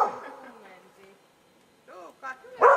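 A dog gives a few short whimpering yelps and a brief bark during a Finnish dog behaviour assessment, heard amid a person's voice calling out, fairly close with quiet stretches in between.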